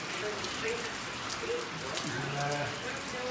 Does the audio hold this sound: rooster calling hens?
no